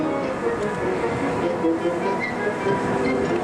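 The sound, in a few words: Universal Studios tour tram moving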